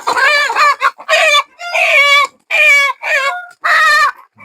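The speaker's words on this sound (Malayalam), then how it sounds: "ഇതിൽ തന്നെ പൂവനുണ്ട്." A Kadaknath black rooster, golden-coloured, crows and clucks up close in a series of loud, repeated bursts with brief gaps, heard alone without talk.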